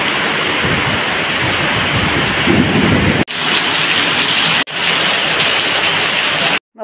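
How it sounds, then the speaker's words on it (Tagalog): Heavy rain falling in a loud, steady wash with low thunder rumbling underneath, broken by two short abrupt dropouts before cutting off at the end. "Dahil nga siguro sa sobrang lakas ng ulan ngayon."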